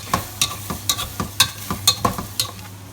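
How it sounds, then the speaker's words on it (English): Minced beef for chilli con carne being mashed in a hot frying pan with a potato masher, a steady series of about ten rhythmic squelching thuds over a soft sizzle, close and alone. "I just find it a bit easier and quicker with a potato masher."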